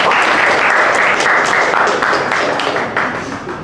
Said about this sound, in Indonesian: Boleh tepuk tangan buat Iqbal ya